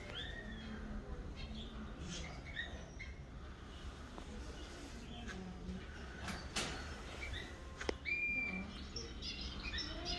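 Birds in the Australian bird exhibit at Berlin Zoo chirp and call in scattered short bursts over a steady background hum, faint and at a distance, with an occasional louder knock.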